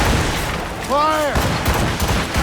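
Ship cannons firing in the game Assassin's Creed Rogue during a naval battle, a dense, loud booming volley over continuous wind and sea noise, with a shouted voice briefly in the middle.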